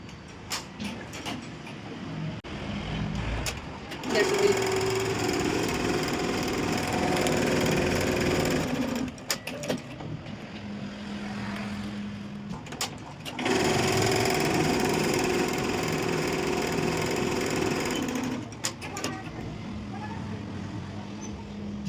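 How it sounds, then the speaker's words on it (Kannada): A computer embroidery machine stitches in long, steady mechanical runs with a rapid rattling hum, pausing briefly twice before starting up again, loud and close with no talking. "ನೋಡಿ ಮಿಷಿನ್ ರನ್ ಆಗ್ತಾ ಇದೆ ಇವಾಗ"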